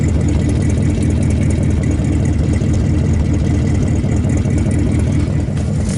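A 1959 Ford Fairlane 500 Galaxy, started for the first time in over twenty years, idles loud and close with a steady, rumbling, slightly uneven churn throughout.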